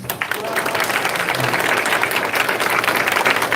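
A church audience gives loud, sustained applause to welcome a lawyer, a dense wash of many hands clapping close by for several seconds, with a voice faintly underneath.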